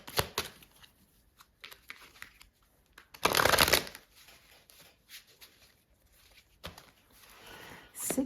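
Tarot cards shuffled by hand in repeated soft riffling bursts, with one louder, denser flurry partway through and quieter pauses between, close and with no talking.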